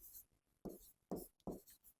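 Marker or chalk writing out the solution to a pair of linear equations on a board, three distinct scratchy strokes in a row, close and fairly quiet, with no talking.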